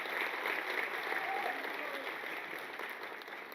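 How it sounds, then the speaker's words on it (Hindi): A Mumbai audience at Ek Mutthi Aasman, a musical tribute show for a composer, applauds in a sustained crowd clatter that fades gradually. "एक बार आपने बगैर मेरे कहे तालियां बजाई"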